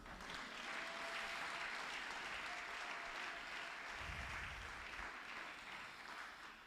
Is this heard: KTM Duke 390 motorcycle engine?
no